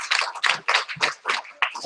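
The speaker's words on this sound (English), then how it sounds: "let's have a round of applause to the Communications Authority" A small audience at a discussion event gives a round of applause, a sparse run of distinct, close hand claps in an uneven rhythm with gaps between them.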